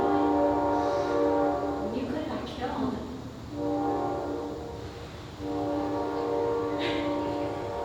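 A train rolls past a tunnel, its horn sounding in long, loud, steady blasts broken by two short gaps of rumbling and clatter as it goes by, while people talk briefly over it.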